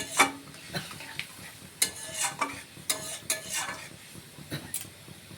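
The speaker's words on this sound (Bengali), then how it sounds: "দেখুন আমাদের এখানে গ্রেভিটা ঠিক ফুটে উঠেছে।" Doi chingri, a prawn curry in yogurt gravy, cooking in a pan: a steady low sizzle and bubble runs under repeated sharp scrapes and clinks of a spoon stirring against the metal.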